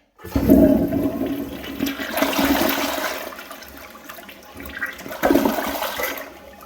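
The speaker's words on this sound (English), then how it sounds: "let's have a look at the rinsing action." A 2nd-generation Gerber Avalanche toilet flushes with a close, rushing gush of water that surges, eases into a steady swirl, then gives a second strong rush before draining away.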